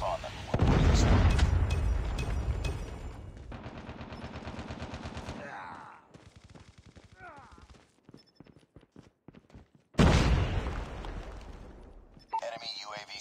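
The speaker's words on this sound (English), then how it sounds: "Friendly predator missile inbound." Predator missile strikes in the video game COD Mobile, loud close explosions with heavy low rumble, including one sharp blast near the end, among rattling gunfire and a voice calling out.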